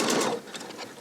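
Pfaff sewing machine stitching ribbon, a fast steady whir of needle strokes that starts loud and eases slightly toward the end, close up with no talking.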